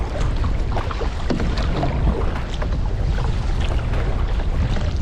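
Strong wind buffeting a canoe on open water at Narrawong: loud, continuous roaring wind noise with rumbling gusts, close and unbroken, no voices.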